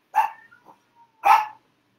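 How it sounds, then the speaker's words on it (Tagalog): A dog barks angrily at an intruding cat indoors, two sharp close barks separated by a soft yip and a faint whine, no talk. "Yung pusa, galit na galit yung aso."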